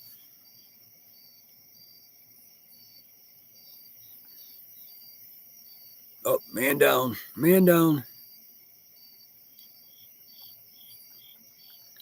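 Crickets chirp outdoors on a night in southwestern Pennsylvania, a steady high-pitched trill running unbroken through the whole stretch, briefly interrupted by someone talking midway.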